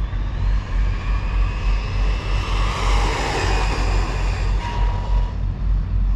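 Team Corally Syncro4 RC car with a 17-tooth pinion on a 4S battery at full throttle, its electric motor giving a loud, sustained high whine with a rising pitch that holds steady for several seconds.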